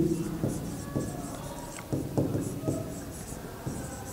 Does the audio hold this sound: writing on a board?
yes